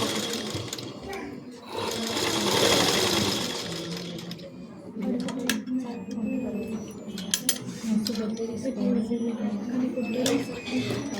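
Close by, a sewing machine runs in short stitching passes along a gathered frock bottom, its motor whirring and ticking, with someone talking before and during the sewing.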